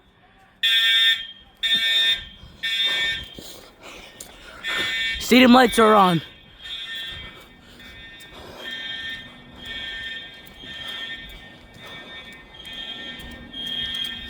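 A loud fire alarm in a high school sounds in repeated piercing bursts, then settles into a steady pulsing ring, with people talking and a voice rising over it.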